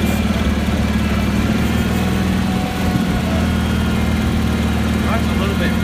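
A Cub Cadet 1872 lawn tractor engine runs steadily at idle, a continuous close mechanical drone with a low throbbing hum, slightly rich-running, with no break throughout.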